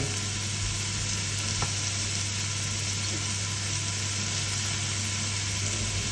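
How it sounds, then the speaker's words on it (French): Mushrooms frying in a pan, a constant close hiss of sizzling with a faint tap partway through, no voices. "Il y a déjà des bonnes petites odeurs qui remontent de champignons qui commencent à griller."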